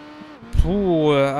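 Motorcycle engine in the PS2 racing game Tourist Trophy, revving up with a rising, steady tone after a brief bump, sustained and fairly loud near the end.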